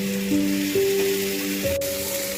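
Ginger, garlic and green chilli sautéing in a pan for beef vindaloo with vinegar added, a steady hiss of frying with light stirring and a brief sharp tick, close up and alone.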